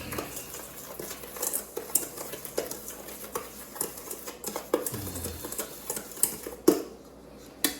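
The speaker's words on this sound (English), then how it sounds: "Stir that up." Homemade seasoning with paprika and a little roasted garlic being stirred in a small container, a close run of light clinks, taps and scraping from a spoon against the dish, irregular and fairly quiet; no talking.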